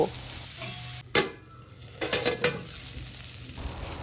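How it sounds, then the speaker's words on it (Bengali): Eggplant, beans and ridge gourd cut into long strips fry in a pan with a low, steady sizzle, broken by a few scraping stirs and utensil knocks against the pan. "এবার সব সবজিগুলো ভালো করে ভেজে নেব।"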